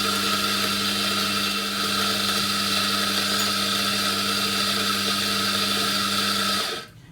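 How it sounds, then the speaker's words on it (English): A Mazzer burr grinder grinds coffee beans with a loud, steady whirring hum that holds evenly for about six and a half seconds, then winds down and stops near the end. "is to actually grind some coffee"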